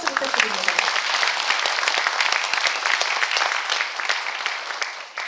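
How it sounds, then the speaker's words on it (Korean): A hall audience applauds the Yeongwol county head after his talk at a Gangwon Special Self-Governing Province briefing in a culture and arts center. Dense, continuous clapping with a brief voice at the start, fading slightly at the end. "살기 좋은 미래 영월의 미래 비전을 열정적으로 설명해 주신 군수님께 다시 한번 큰 박수 부탁드립니다"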